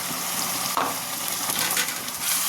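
A spice paste of ginger, garlic, green chilli and tomato sizzles loudly in a hot pan with onions, a continuous close frying hiss broken by stirring scrapes.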